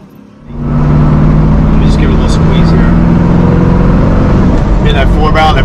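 A 1970 Ford Mustang Boss 302 with a big Holley carburetor starting to open up, a loud, close, deep V8 roar building quickly and holding steady, with a voice briefly heard near the end.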